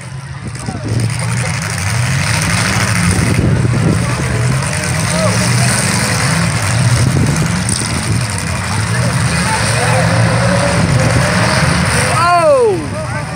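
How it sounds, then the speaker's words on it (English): A demolition derby car engine runs loud and close with a rough, steady idle rumble, while voices talk over it throughout. "Our engine already fired up."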